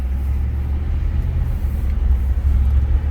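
2009 Ford F150 pickup truck with high mileage and worn brakes driving along, a steady low engine and road rumble heard from inside the cab, continuous and fairly loud.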